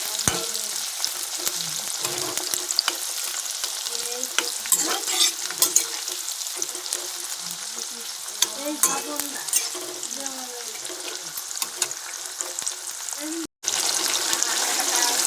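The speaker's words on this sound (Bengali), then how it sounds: "আবারও তেল দিয়ে কড়াইতে জিরে আর পেঁয়াজ, টমেটো আর তেজপাতা ফোড়ন দিয়ে ভালো করে পেঁয়াজগুলোকে ভালো করে লাল লাল করে ভেজে নিচ্ছি।" Cumin, onion, tomato and bay leaf fry in oil in a wok, producing a loud continuous sizzle broken by frequent scraping stirs and crackling pops, with a brief dropout near the end.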